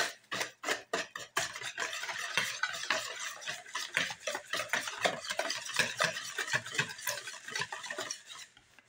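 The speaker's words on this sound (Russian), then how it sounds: "немножко взбиваем слегка" Quick rhythmic light whisking of eggs with salt and sugar in a bowl, a steady run of light clattering strokes close up, with no talking.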